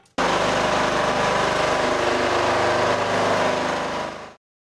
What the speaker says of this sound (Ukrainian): Аби покриття міцно трималося, його ретельно трамбує каток.